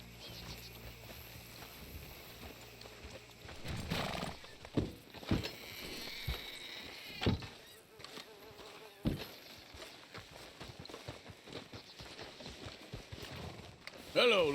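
Horse hooves clop in Red Dead Redemption 2 as riders arrive and hitch up, soft irregular thuds under buzzing insects and ambient game sound, with voices talking over parts of it.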